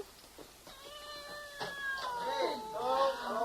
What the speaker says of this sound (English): Is that your cat?